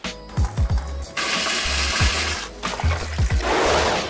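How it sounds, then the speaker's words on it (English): Cold water runs from a tap over cooked macaroni draining in a sieve, a steady rushing splash with several metallic clunks and knocks of the sieve shifting, close and loud throughout. "we sieve them and put cold water in our pasta to stop the cooking process"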